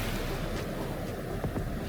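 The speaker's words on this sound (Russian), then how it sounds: "Практически сразу начинается открытый океан, большие волны за рифом" Ocean waves break beyond the reef on a wild beach near Surinam village in southern Mauritius, a continuous broad roar of surf mixed with gusty wind buffeting, fairly loud and unbroken, with no voices.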